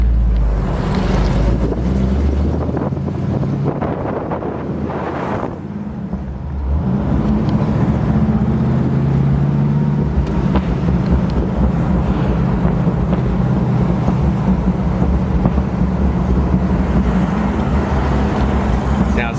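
A 1968 Pontiac GTO convertible engine gives a low, steady, slightly poppy exhaust rumble while driving, with wind buffeting the microphone throughout.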